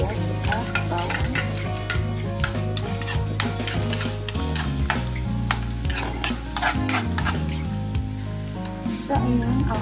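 Onion and garlic sautéing in a pan sizzle loudly and close, broken by rapid repeated scraping strokes of a spatula stirring against the pan over a low humming background.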